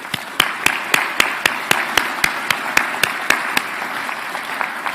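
A white coat ceremony crowd applauds, with a steady bed of many hands plus a regular series of sharp, loud individual claps ringing out roughly every third of a second close to the microphone.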